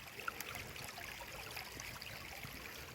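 Faint, steady trickle of creek water flowing over ice-capped stones in winter, a soft continuous babble with no voices.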